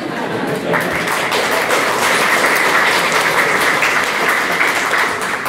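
Sustained applause from a Latin America conference audience: a dense, even wash of clapping that swells slightly after the first moment and carries on steadily at a loud, close level.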